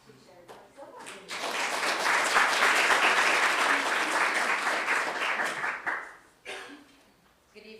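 A board meeting audience breaks into sustained, fairly loud applause that builds quickly, holds for several seconds, then tapers off, with brief voices before and after.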